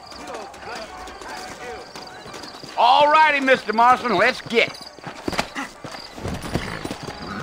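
Horses' hooves clip-clop in a rhythmic trot in the Western video game Red Dead Redemption, joined by a brief neigh midway, with a voice speaking over the steady hoofbeats.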